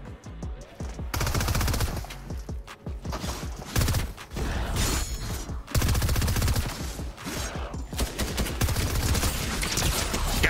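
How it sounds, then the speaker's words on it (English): Dense gunfire in the video game Fortnite, rapid bursts and overlapping shots filling the whole stretch at close range and loud, with brief mechanical clicks between volleys. "he was shooting the NPC to try and get him to aggro onto me"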